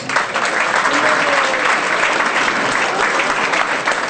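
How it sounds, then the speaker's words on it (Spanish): Audience at the Universidad San Marcos in Lima applauds steadily at a political event, a dense, sustained wash of many hands clapping with no voices rising above it. "Fuertes aplausos para todos ellos."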